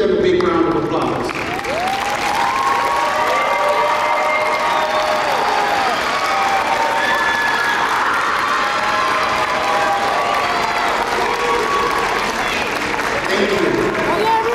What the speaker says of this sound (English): students, give them a big round of applause.